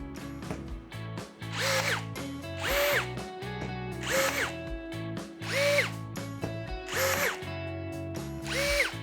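A Procraft PRG20 cordless rivet gun sets 3.2 mm rivets into a 50x50 steel profile with 2 mm walls: about five loud, close whirring pulls, each ending in a sharp snap, separated by short pauses and ratcheting clicks.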